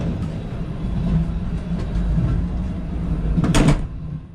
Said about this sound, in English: The doors lock with these buttons.